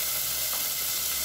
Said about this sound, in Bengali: এখন আমি চিকেনের পিসগুলিকেও দিয়ে দিচ্ছি।